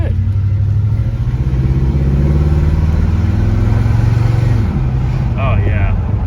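A 1968 Ford car cruises along with a steady, close engine drone and road rumble, easing off near the end while a voice talks over it.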